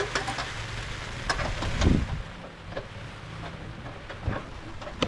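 Rain falling during an outdoor home-service repair job on a 2018 Toyota Avanza in Cabuyao, Laguna, a steady patter and hiss with a few louder gusts and rumbles, no clear voices.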